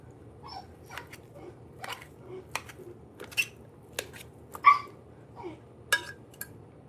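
A small puppy gives a string of short, sharp yaps and whimpering barks, about a dozen irregular bursts at moderate distance over a quiet room background.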